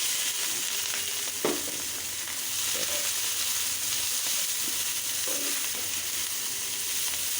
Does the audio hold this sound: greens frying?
yes